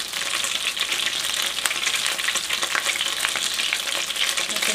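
Gyoza potstickers frying in hot oil in a pot, a steady, loud, bright sizzle with crackling spatters throughout and no voices.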